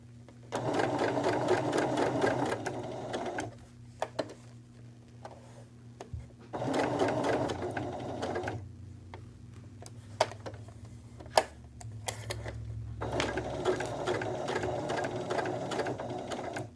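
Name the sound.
sewing machine stitching around curves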